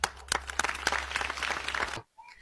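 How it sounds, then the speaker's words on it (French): An audience claps at a French comedy show in a short, dense burst of applause that lasts about two seconds and then cuts off abruptly. "Très bien, applaudissez."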